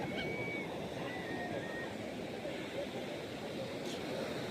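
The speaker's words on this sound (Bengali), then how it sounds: "চলে আসলাম আবার আজকে সমুদ্র পারে" Sea waves breaking on the beach at Puri make a constant broad roar mixed with wind, loud and unbroken, with faint distant sounds in the background.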